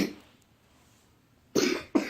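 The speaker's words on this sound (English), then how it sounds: "She has a cough on her." Two sharp coughs from a young girl with a cough, close by, after a quiet stretch; the second follows shortly after the first.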